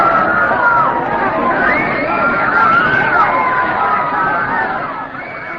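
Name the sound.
crowd roaring and howling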